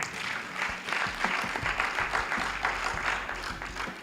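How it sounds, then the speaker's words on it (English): Graduates at a ceremony applaud themselves, a steady crowd of clapping hands with a faint low hum underneath, continuing evenly from start to finish. "please give yourselves a round of applause"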